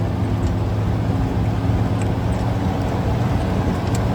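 A loud 1943 Dodge weapons carrier engine drones in first gear at low speed, a deep, steady, rumbling roar filling the cab without letup.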